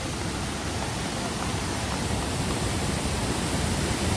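Somtirth waterfall near Malgund and Ganpatipule, water rushing down at great speed in a constant, loud, broadband roar with no pauses.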